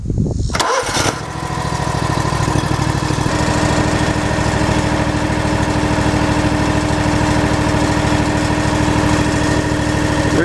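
Scag riding lawn mower engine cranks briefly, catches, and settles into a loud, steady close-up run that continues unbroken to the end.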